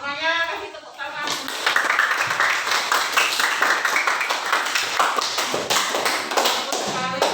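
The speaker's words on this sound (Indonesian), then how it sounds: "Ya, semuanya kasih tepuk tangan." Classroom audience of students gives a round of applause after a group presentation, loud and close with distinct overlapping hand claps lasting several seconds, preceded by a brief spoken phrase.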